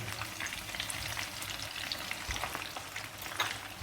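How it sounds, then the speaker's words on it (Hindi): Semolina-coated chicken pakoras deep fry in hot oil, producing a continuous close bubbling sizzle with crackling pops and no speech. "इन पकौड़ों को आपने डीप फ्राई करना है"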